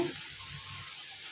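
A brief, steady sizzle of food frying in a pan while preparing mola fish with helencha greens, close and moderately loud with no talk.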